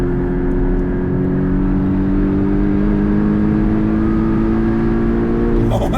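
Turbocharged engine of a 2018 Porsche 718 Cayman GTS pulling through third gear at over 5,000 feet, a loud, steady, close engine drone with a constant low tone, no voices.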